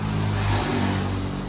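Road traffic in Pattaya passes close by, a steady engine drone with a hum of vehicles moving along the street.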